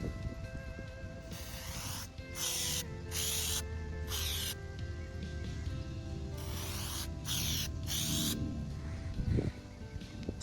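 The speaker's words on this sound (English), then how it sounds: "You're supposed to hold it 3 inches away and just spray up and down." Oil is sprayed from an aerosol can onto the air filter of a 2000 Chevrolet Silverado truck in several hissing bursts of about half a second to a second, close to the listener, with faint rustling and handling noises between them.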